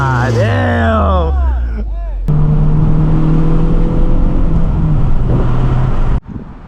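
Honda Civic Type R FK8 engine accelerating, a steady loud drone with rising harmonics that cuts off abruptly near the end, preceded by a brief voice with music-like tones at the start.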